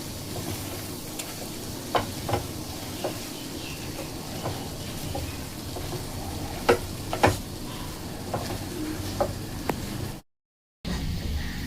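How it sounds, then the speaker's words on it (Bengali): Semolina and gram flour roast in a pan over a medium-low flame for a jaggery sweet, giving a gentle continuous sizzle broken by repeated scraping strokes of a stirring spoon, with no talk. "একদম মিডিয়াম টু লো ফ্লেমে এগুলোকে ভেজে নিতে হবে খুব ভালো করে"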